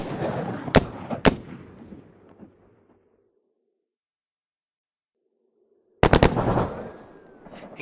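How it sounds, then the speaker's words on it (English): Attackers' gunfire in a zombie survival audio drama: two loud sharp shots, a fading tail into silence, then a dense close burst of rapid automatic fire. "those guys shooting at you"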